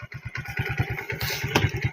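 A scooter engine runs close by with a fast, steady putter and a mechanical clatter, loud and alone.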